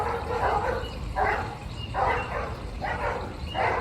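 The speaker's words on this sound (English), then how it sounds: "Sorry about the dogs, guys, but my neighbors have dogs." Neighbors' dogs barking in bursts about once a second, a bit distant, over a steady background hiss in a dry summer garden.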